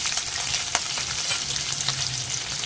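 Garlic, curry leaves and green chili tempering in hot oil for a raw jackfruit stir-fry, a loud dense sizzle with occasional sharp crackles, continuous and close, no talk.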